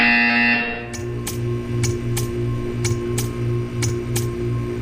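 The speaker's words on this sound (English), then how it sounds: "You will hear a buzzer." A repeating electronic buzzer in the Portal 2 video game sounds in regular pulses, about seven evenly spaced beeps over a steady low hum, after a short higher tone at the start.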